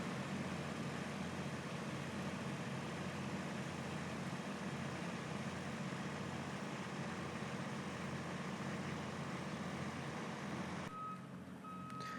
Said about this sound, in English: Pedestrians walk by and observe the demolition, the wrecking machine at work.